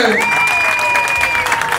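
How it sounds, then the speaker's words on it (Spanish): Brief burst of crowd clapping at a Christmas tree lighting ceremony in Sosúa, steady and loud, with a sustained shout or whistle-like tone riding on top. "Un aplauso al Comando Aéreo Norte."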